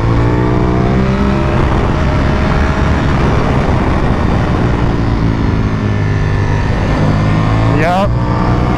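A motorcycle accelerates in second gear on a winding switchback road, its engine droning loud and steady throughout with a rising whine near the end, and no speech over it.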